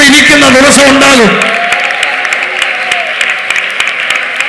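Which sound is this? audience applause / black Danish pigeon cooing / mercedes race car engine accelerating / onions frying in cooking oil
audience applause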